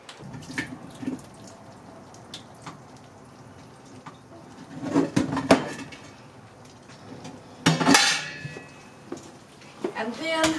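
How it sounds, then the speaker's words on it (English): Boiled potatoes being drained from a pot into a sink, with bursts of pouring and splashing water, clanks of the pot and a few drips, close and intermittent, with a voice heard briefly. "I'm going to drain the potatoes"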